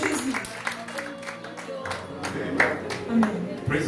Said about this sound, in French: Can we clap our hands to Jesus celebration?